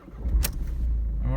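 A 2011-2015 Ford Focus engine starting close by, with a short turnover that settles straight into a low, steady rumble over barely a second.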